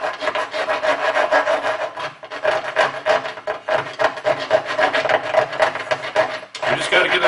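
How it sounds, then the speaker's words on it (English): A square metal file rasps back and forth along an edge during repair of a Highland Park 18-inch rock saw's split nut and bushings, a rapid continuous scraping rhythm, close and loud. "Of all things, I don't have a round file, I got a square file."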